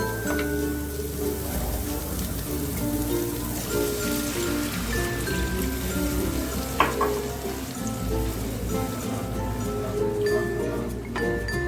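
Poppy seed paste frying in oil in a pan for rui posto sizzles steadily and close up, with a few brief clinks and scrapes as water goes in and the bubbling carries on.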